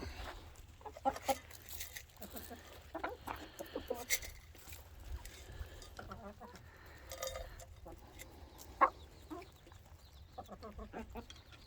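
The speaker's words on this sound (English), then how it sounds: "I have to get in between the older hens here and Chicken Little, who's the white one" Hens, alongside turkeys and ducks, cluck and murmur in short, uneven bursts nearby, with soft rustling and pecking sounds around them during feeding.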